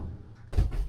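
Pantry cupboard door on a fishing boat opening: a short quiet creak followed by a soft wooden thump and rattle, close by and brief.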